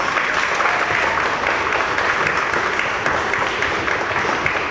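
A school spring band and orchestra concert audience claps for the honors orchestra students as they stand, a dense, continuous round of applause throughout.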